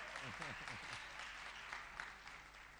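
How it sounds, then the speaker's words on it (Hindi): Audience clapping at a Jain religious question-and-answer gathering with a monk, a steady wash of many hands after a brief spoken voice at the start, fairly faint and continuous. "अरे बोलना है तो तालियां बजा दो भाई।"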